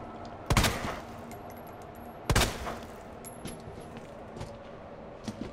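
Two loud handgun shots from the Matilda pistol in the Resident Evil 2 Remake video game, spaced nearly two seconds apart, each followed by a short echoing tail and then fainter game ambience and small clicks.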